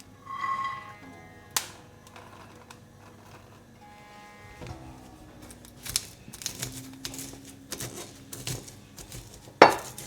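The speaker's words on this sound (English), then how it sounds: "Once these are dry roasted, I'm just going to crush them in this pestle and mortar." Dry-roasted whole spices crushed with a pestle in a mortar, heard as close, scattered grinding knocks and crunchy scrapes that grow busier toward the end.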